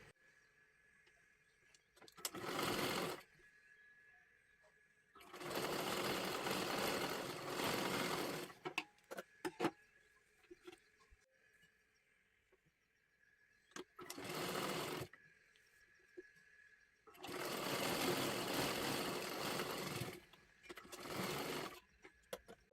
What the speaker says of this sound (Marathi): सर्वात आधी इथे आपल्याला शिलाई करून घ्यायची आहे आणि नंतर आतल्या बाजूला ते पलटी करायचं आहे.